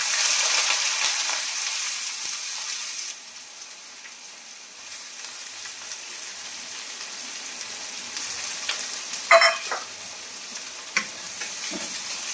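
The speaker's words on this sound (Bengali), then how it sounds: "তেল গরম হয়ে গেছে, আমি এই যে পেঁয়াজ কেটে রেখেছি পেঁয়াজগুলো দিয়ে দেব।" Chopped onions go into hot oil in a home kitchen and sizzle with a soft, even crackle. The frying stays fairly quiet, with a few brighter spatters and the clink of stirring toward the end.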